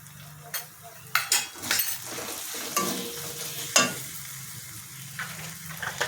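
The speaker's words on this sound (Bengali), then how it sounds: "এবার এটা ভাজা ভাজা করছি" Ground cumin, coriander and chili powder fry in a pan for a Bengali pui shak dish, with a soft steady sizzle broken by sharp clinks and scrapes of a metal spoon stirring against the pan, and faint speech in the background.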